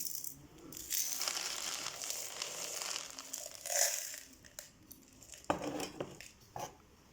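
Broken roof tile pieces for a cactus soil mix, handled and shifted by hand: scattered dry clinks, scrapes and crunchy rattles, fairly faint and close, with a few sharper knocks near the end.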